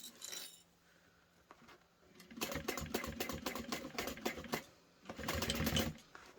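A sewing machine stitching and back-stitching an anti-theft backpack, with bursts of rapid needle clatter separated by brief pauses, close and fairly loud, no talking.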